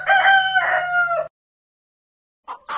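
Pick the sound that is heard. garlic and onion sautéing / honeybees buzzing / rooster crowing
rooster crowing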